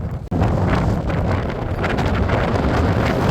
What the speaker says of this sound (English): Bitterly cold, that wind.